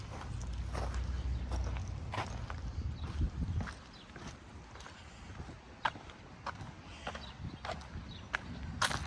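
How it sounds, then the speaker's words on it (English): Footsteps crunch along a street littered with tornado damage in Lansing, steady walking paces over debris, close and moderately loud against faint outdoor background noise. "I'm just walking north"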